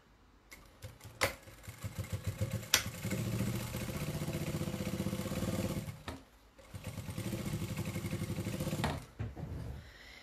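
Sewing machine stitching a fabric table runner, a steady mechanical whirring hum in sustained runs with brief pauses and clicks between them, close and moderately loud.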